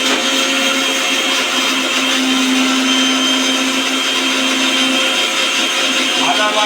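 An electric grinder in a home kitchen whirs loudly and continuously as it grinds ginger paste, a close steady motor drone with a tonal hum that shifts slightly near the end.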